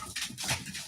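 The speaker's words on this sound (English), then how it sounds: "What are you barking at me for?" A dog barks and whimpers close by in a short burst, a couple of quick breathy yelps with no talking over them.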